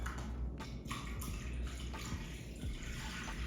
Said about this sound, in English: On top of that, we're gonna add our chicken bone broth.